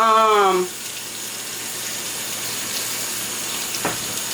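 Steady running tap water rinsing raw oxtails in a kitchen sink, a close, continuous splashing hiss that follows a brief moment of voice at the start.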